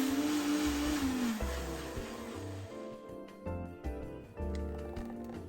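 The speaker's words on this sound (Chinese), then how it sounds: "启动搅拌器" A blender whirs at full power as it blends five snipped pandan leaves with coconut milk, loud and steady at first, then sputtering into uneven pulses as the motor cuts in and out near the end.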